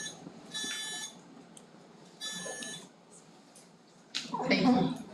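Quiz contestant buzzers being tested one after another at a high school knowledge bowl: two clear electronic tones in a classroom, followed by a voice speaking.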